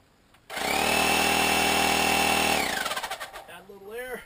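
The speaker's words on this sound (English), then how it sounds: "Turn on the supercharger." A supercharger on a homemade potato gun starts abruptly and runs as a loud, steady mechanical whine for about two seconds, then pulses and winds down as it stops, with a voice speaking at the end.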